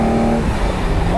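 A loud, close Ferrari engine, a convertible, runs with a deep, steady roar, its pitch climbing briefly near the end as it revs.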